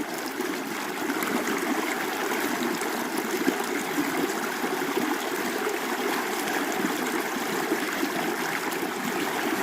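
Creek water on a trail flows steadily into a 3-liter water bag, a continuous close rushing trickle with no voices.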